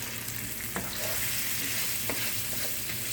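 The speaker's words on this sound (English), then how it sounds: "And I'm going to fry these up." Flour-dredged turkey pieces frying in a pan: a constant dense sizzle and crackle fills the sound, with a few faint scrapes and taps from stirring, close and steady, without talk.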